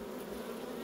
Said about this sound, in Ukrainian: Дивіться, скільки тут бджоли. Літає.